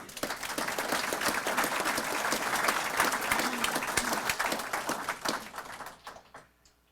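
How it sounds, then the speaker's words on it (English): Sustained audience applause at a police academy graduation ceremony, a dense steady roar of many hands clapping that holds for several seconds, then thins and tapers off toward the end. "That deserves a round of applause."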